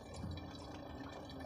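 Water trickles and drains steadily from a brine shrimp hatchery into a bottle, a faint continuous gurgling pour with small drips, close by and without talk.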